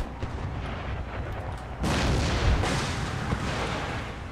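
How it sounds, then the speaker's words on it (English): Artillery fire in the strategy game Empire: Total War, with a low rumbling battlefield backdrop that breaks into a loud, deep cannon barrage partway through, followed by a sustained roaring wash of booms. "Here comes some artillery."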